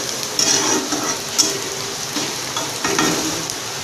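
Onions frying on a high flame for chole masala, a steady close sizzle with faint crackles and a few brief scrapes of stirring, no voices.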